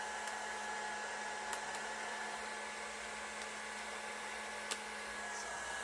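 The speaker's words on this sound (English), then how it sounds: "Overall, this is just one wonderful, easy to use hairdryer." A handheld hair dryer runs with a steady, even whir at moderate distance, constant from start to finish apart from a couple of faint clicks.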